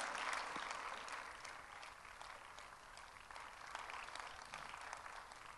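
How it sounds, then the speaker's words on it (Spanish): A church congregation applauding, a sustained wash of many hands clapping that swells at the start and holds steady, fairly distant and soft, with no speech over it. "Denle ese aplauso a Dios"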